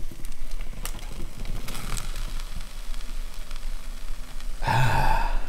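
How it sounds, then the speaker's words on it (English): Steam hisses and crackles softly out of a heated wooden acoustic guitar side as it is bent, a faint, steady sizzle heard up close, with a brief sigh-like breath near the end. "You'll hear like the steam coming out of it"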